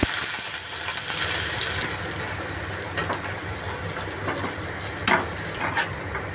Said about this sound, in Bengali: গরম মশলা দিলাম শুকনো লঙ্কা দিলাম অল্প পাঁচফোড়ন দিলাম পেঁয়াজ দিলাম